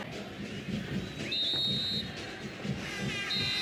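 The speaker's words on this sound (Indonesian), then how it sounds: "wasit Armando Pribadi meniupkan peluit panjang tanda berakhirnya babak pertama" A referee blows a long, piercing whistle over steady stadium crowd noise to end the first half of a football match between Arema Indonesia and Persik, followed by a second shorter whistle blast near the end.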